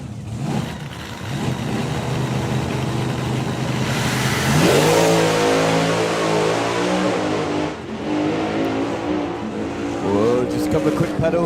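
Drag racing car at a hot rod drag event making a full pass, engine roaring and revving with rising then falling pitch and a couple of quick throttle blips, loud and near, with a commentator talking over it.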